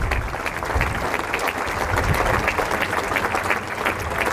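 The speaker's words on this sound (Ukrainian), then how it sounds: "Аплодисменти переможцям." Audience applause for the winners at the end of a tennis final in Nottingham, a steady wash of many hands clapping that holds at an even level for a few seconds, moderately near and without speech.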